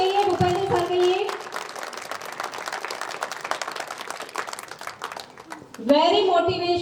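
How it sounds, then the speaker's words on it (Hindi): An audience at a motivational event claps in dense, steady applause, with a host's voice heard briefly at the start and again as the clapping fades near the end. "जोरदार तालियां बजती रहनी चाहिए"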